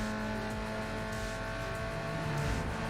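Engine of a Toyota Supra in Need for Speed Underground 2 under nitro boost, a steady, fairly quiet droning roar that climbs in pitch near the end, with no voices.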